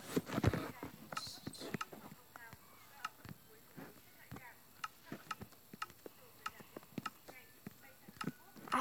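Light, irregular clip-clop of horse hooves in Minecraft with sharp clicks scattered throughout, fairly quiet, alongside faint game background sounds.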